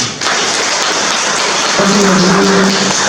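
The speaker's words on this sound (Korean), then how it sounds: "박수로 한번 맞이해주시면." Steady broadband crackle of applause at a farmers' policy convention in Seocheon County fills the whole clip, with a voice briefly sounding over it in the second half.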